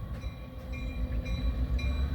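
A passenger train rolls past the Nesquehoning terminal, a loud, close, continuous rumble of wheels on rail with steady high metallic squeal tones running throughout.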